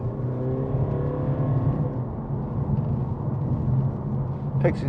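Interior of a 2017 Mercedes-Benz CLA220d AMG Line Shooting Brake with a 2.1-litre diesel engine, a steady moderate engine drone and road hum as the car accelerates, with faint cabin noise throughout.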